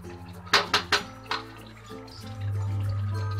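Punjabi masala chicken stirred in a pan with a utensil, a few sharp clinks and scrapes close up, then a steady hum takes over.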